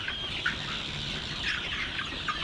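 A flock of chickens on a chicken farm clucks continuously at moderate distance, with scattered higher calls over a steady murmur of the birds.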